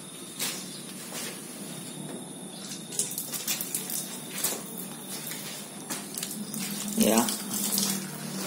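Water runs steadily from a tap into a container while paint is being thinned, a continuous close hiss with a few clicks and knocks on top, and one brief spoken word.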